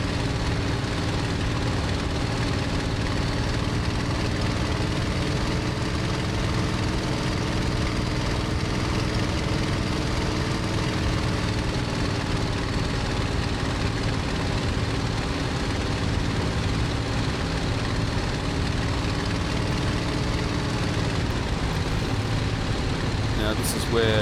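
A Bf 109 G-6 engine in Microsoft Flight Simulator 2020 over Duxford drones loudly and steadily, its pitch wavering slightly as the aircraft flies, with a voice speaking over it.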